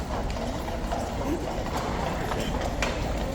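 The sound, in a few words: Horse Guards lifeguards' horses clip-clopping as they leave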